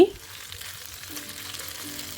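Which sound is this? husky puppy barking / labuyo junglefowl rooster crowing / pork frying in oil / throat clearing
pork frying in oil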